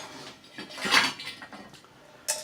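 Metal clinks and scrapes as a stainless steel MSR Stowaway camping pot is handled, a few short rattles building to a brighter clank near the end, close and fairly loud.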